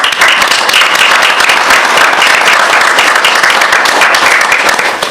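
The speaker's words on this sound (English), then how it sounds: "I just want to give you a round of applause." Loud, dense applause from a Brewton city council audience, continuous vigorous clapping held at full strength before easing slightly at the very end.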